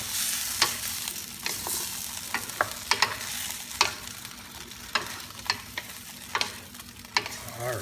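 Squid and tofu stir frying in a hot pan sizzle continuously, while sharp scrapes and clacks from the utensil stirring the food land at irregular intervals close to the mic, with no talking.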